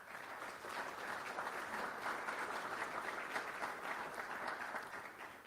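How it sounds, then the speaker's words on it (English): Forum audience in Phoenix giving sponsors a round of applause, a steady, moderately quiet patter of many hands clapping that holds evenly for several seconds before tapering slightly. "And let's please give our sponsors and supporters a big round of applause."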